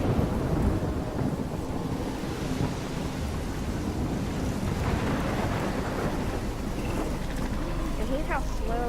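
Storm in the video game Life is Strange: dense, steady rain with deep rolling thunder rumbling throughout near a lighthouse, loud and continuous, with faint tonal game sounds near the end.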